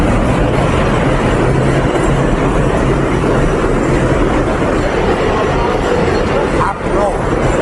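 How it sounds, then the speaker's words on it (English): A train rolls past at close range in a loud, steady roar of rumbling wheels and rail noise that fills the whole stretch without letup, with no clear speech over it. "I'm gonna wait for the train to pass"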